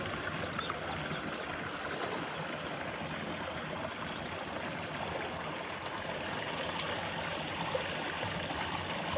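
Running water flows steadily nearby on a farm, a continuous moderate gurgling rush with no talking.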